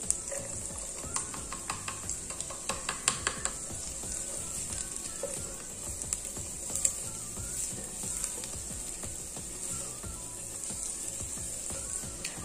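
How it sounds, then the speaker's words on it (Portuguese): Three cloves of minced garlic sizzle in a pan with well-browned onion, a steady quiet frying hiss with faint crackles and occasional utensil taps throughout. "A cebola está bem douradinha. Vamos estar adicionando 3 dentes de alho picado."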